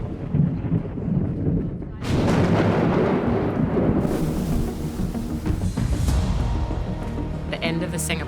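Thunder from a lightning strike near a SailGP F50 racing catamaran at the Singapore event: a sudden loud crack and heavy roar breaking over a dull rumbling background, then a long sustained rolling boom.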